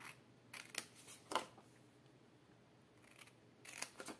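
Scissors snip along the folds of a paper Easter box in a Stampin' Up! craft: a few quiet, separate crisp cuts come first, then a longer pause, then another brief cluster of cuts, all faint and close with no talking.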